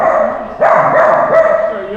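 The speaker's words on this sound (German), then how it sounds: "Ja, das sind Hunde." Dogs barking close by in a short burst, loud repeated woofs following a brief lull, with people chatting nearby.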